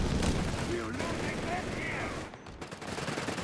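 Machine-gun fire in the World War II strategy game Company of Heroes 3, with rifle and Panther tank battle in progress: rapid bursts rattling in the middle distance under a commentator's steady talk.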